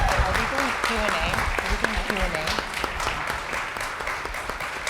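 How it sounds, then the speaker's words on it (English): An audience applauds after a breakout session, with steady clapping under voices talking over it throughout, moderately loud and close. "Please give them all a big round of applause."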